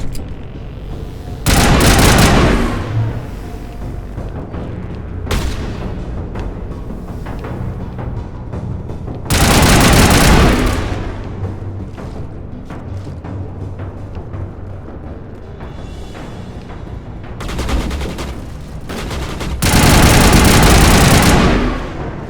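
Gunfire in the Mass Effect video game, with three long bursts of loud rapid weapon fire separated by quieter stretches of combat noise and distant shots.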